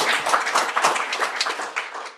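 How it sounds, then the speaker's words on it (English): A live audience at the University of Montana claps for a panel of legal practitioners, a brief burst of scattered, moderately loud clapping that thins out toward the end. "So a big round of applause for them."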